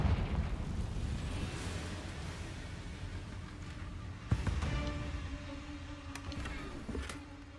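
A Confringo blasting spell goes off in Hogwarts Legacy, a rumbling burst that swells into a sharp crack midway and then rings out, set against ongoing game ambience.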